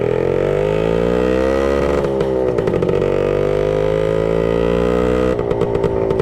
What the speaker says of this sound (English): Yeah, 1966 Suzuki Bearcat 120.